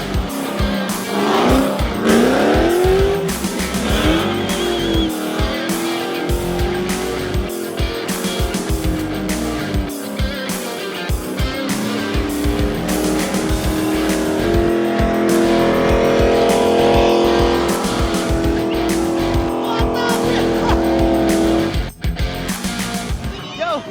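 Drift cars tear around a parade lap, engines roaring loud and continuous with rising revs and long tire squeals and skids close by, while a voice talks over the din.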